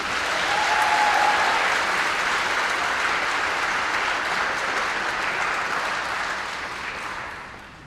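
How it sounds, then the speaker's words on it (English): A graduation ceremony audience gives a sustained round of applause for the 2024 graduates, a dense wash of clapping that swells and then slowly tapers off. "can we please give the graduates of 2024 another round of applause?"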